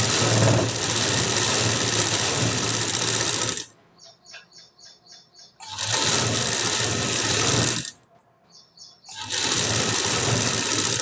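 A sewing machine stitches decorative dots in rapid, loud runs, stopping twice so that short rhythmic ticking bursts sound in the quieter gaps before the motor whirs up again.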